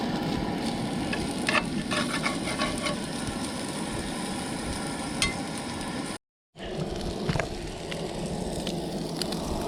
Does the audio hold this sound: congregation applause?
no